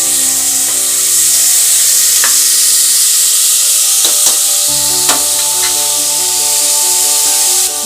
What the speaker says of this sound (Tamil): வெங்காயம் போட்டு ஒரு வாட்டி நல்லா கலந்து விடலாம்.